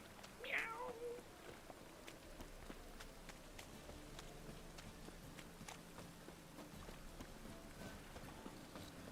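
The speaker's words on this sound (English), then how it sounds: "My cat." In The Witcher 3: Wild Hunt, a cat gives one short, clear meow near the start, then quiet game ambience with faint soft ticks and steps continues to the end.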